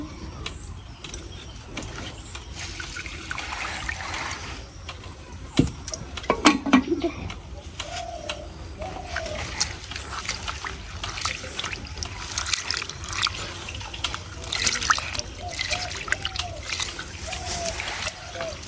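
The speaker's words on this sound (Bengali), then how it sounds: "তাড়াতাড়ি ধোও" Water splashes and trickles while someone washes at home, in uneven soft spatters and dribbles. Voices talk over it throughout.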